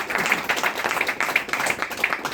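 Sustained clapping from an audience at a community birthday celebration for a federation, dense and steady throughout with scattered sharper claps, moderately loud.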